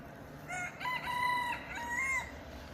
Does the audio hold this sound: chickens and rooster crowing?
yes